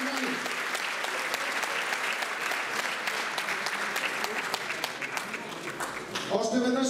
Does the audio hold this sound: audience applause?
yes